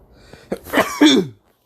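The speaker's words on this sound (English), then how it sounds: "I had to sneeze." A single sharp sneeze bursts out close by, a quick intake followed by a loud explosive release, with no talking around it.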